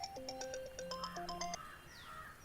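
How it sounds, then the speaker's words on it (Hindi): A mobile phone rings with an incoming call in a Hindi-dubbed South Indian action-romance film, playing a short, fairly quiet, chirpy electronic melody of repeated tones. "किसी का तो फोन आ रहा है। रिसीव कर ले यार।"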